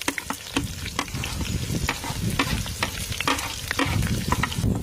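Onions sizzle and crackle in hot oil with cinnamon, cloves, bay leaf and dried red chillies for a gongura chicken curry, with steady frying and occasional stirring scrapes close up throughout.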